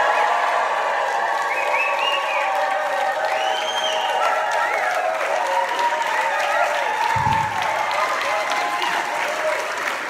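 A church congregation claps and cheers steadily throughout, a moderate and even wash of applause with scattered whoops and voices rising above it.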